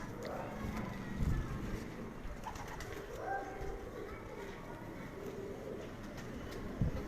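A pigeon held in the hand gives soft low coos amid background chatter and light handling noise, with a couple of brief thumps.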